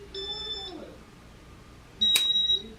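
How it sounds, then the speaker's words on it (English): Casablanca Inteli-Touch ceiling fan control emitting short electronic beeps, a few tones at slightly different pitches with a pause between, close and clear over quiet room noise. "you listen to the beeps, and as the beeps get higher, the speed gets higher"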